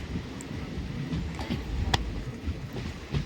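Passenger train on the Kuzhithurai to Rameshwaram route running steadily, a continuous low rumble of wheels and carriage with a few brief clacks and rattles, heard from inside at moderate level with no talking.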